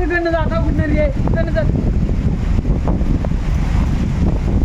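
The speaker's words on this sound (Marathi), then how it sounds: "बघू शकता खूप प्रसिद्ध धबधबा आहे" A steady, loud rushing roar of the Marleshwar waterfall in Konkan, India, fills the clip, with voices calling briefly at the start.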